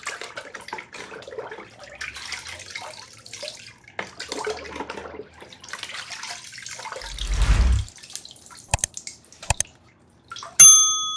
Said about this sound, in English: I'm going to throw it in this water. This is clean water.